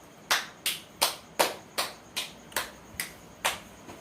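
Hands clap at a 25th wedding anniversary cake cutting, nine crisp, evenly spaced claps at a steady, unhurried pace, close by with no voices over them.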